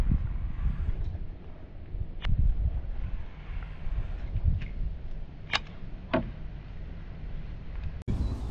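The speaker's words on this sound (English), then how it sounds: "Today is heavy wind, so it's a little tough for kayak fishing." Heavy wind buffeting a microphone out on the water while kayak fishing for bass, a continuous low rumbling roar with a few faint ticks and knocks.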